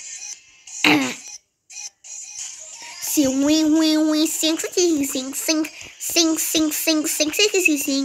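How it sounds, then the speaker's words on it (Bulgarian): A single sharp cough stands out near the start, followed by a person talking and singing along with loud background music. "Ако чуете защо кашлям."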